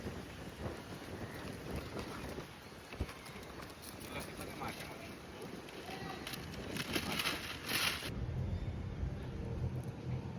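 Wind blowing across a pond where tilapia are being caught, a steady rushing buffet on the microphone that swells louder toward the end.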